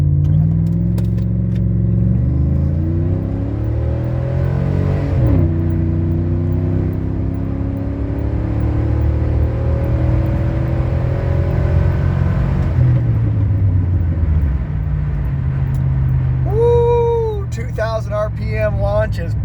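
A 2005 Chevy Silverado with a 4.10 rear gear and limited-slip differential launches hard from a 2000 RPM hold. Loud engine roar climbs steadily through two apparent gear shifts, then settles into a steady cruise.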